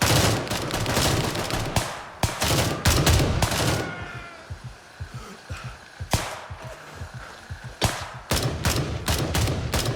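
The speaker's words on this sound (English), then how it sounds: "The suppression fire. Whenever I pulled up and that guy shot." Rapid bursts of gunfire in the Gray Zone Warfare video game, loud and dense fusillades pinning the player under suppressing fire, with a brief lull in the middle before more shots crack in.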